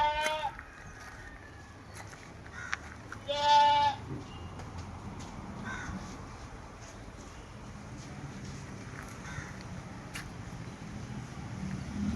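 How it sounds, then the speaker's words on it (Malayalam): A pregnant Malabari goat, more than three and a half months along, gives one short, clear bleat early on, followed by steady outdoor background noise with no talking. "ആട് മൂന്നര മാസത്തിന് മുകളിൽ ചെനയാണ്"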